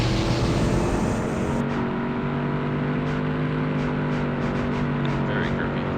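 Race car engines from a Ford vs Chevy drifting video game, a steady loud droning roar with layered engine harmonics running throughout, shifting slightly in pitch as the cars hold speed on a grippy track.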